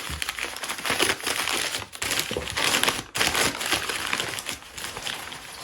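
Paper crinkles and crumples close up in dense crackling bursts, with brief pauses between handfuls.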